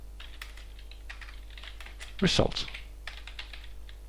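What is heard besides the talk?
typing Python code on a computer keyboard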